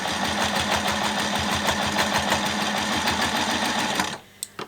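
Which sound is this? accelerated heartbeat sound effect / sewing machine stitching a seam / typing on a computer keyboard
sewing machine stitching a seam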